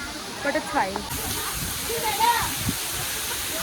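Rushing water from the Katiki waterfall fills the scene as a steady broadband roar, with a lively crowd of people chatting and calling nearby over it.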